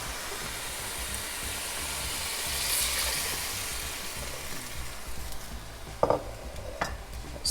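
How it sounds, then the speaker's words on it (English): Beef stock going into a soup pot for stuffed pepper soup: a steady wash of sizzling and pouring liquid over the hot pot, followed by a few clanks and stirring noises near the end, with no talk. "Now we're going in with some beef stock."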